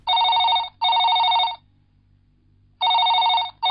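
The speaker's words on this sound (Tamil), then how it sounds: "மணி அடிக்குது" An old telephone bell rings in two loud, close bursts, then falls silent and rings once more.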